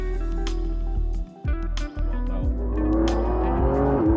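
A Lamborghini Revuelto's V12 engine blips and revs in sharp bursts with brief cuts between them, then builds into a sustained, rising roar, loud and close.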